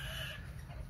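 Chickens cluck softly in a village coop built from coconut palm material, brief and fairly faint.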